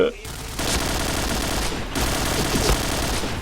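Rapid automatic gunfire in the Point Blank video game, with sustained bursts of close, loud shots that pause briefly and then resume, with faint voices mixed in.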